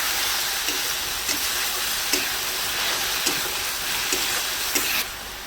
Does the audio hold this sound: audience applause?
no